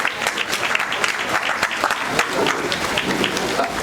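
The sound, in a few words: loud clapping by audience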